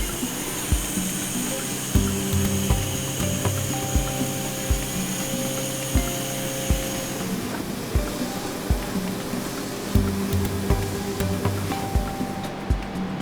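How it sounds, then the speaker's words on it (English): State-of-the-art CNC mill cutting an aluminum block: a steady loud machining whir and hiss with tonal whines, punctuated by regular low thumps roughly every second throughout. "Now ready for milling, the pallet slides into the state-of-the-art CNC mill"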